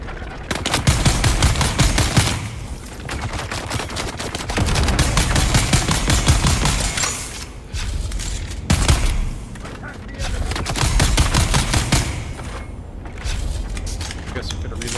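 Sustained gunfire at a boss in the video game Dune Awakening: long bursts of rapid automatic shots, loud and close, broken by brief pauses, with a voice now and then under the shooting.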